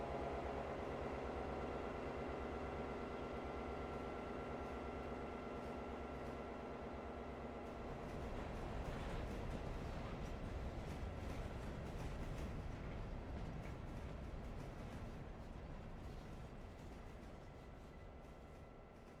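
A mixed local freight train rolls steadily along a scenic rail line toward Bryson, a continuous loud rumble of wheels and cars with faint rhythmic clatter throughout and no voices.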